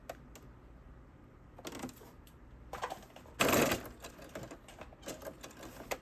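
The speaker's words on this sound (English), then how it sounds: "we're going to edge stitch the pocket down using 1/8 of an inch" A sewing machine edge-stitches a back pocket onto a pair of pants, giving short bursts of whirring stitching with pauses between them and one louder, sustained run near the middle.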